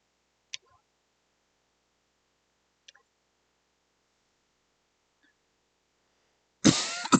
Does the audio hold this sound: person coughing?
yes